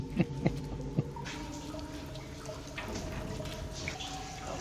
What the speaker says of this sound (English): Love the cave dripping sound.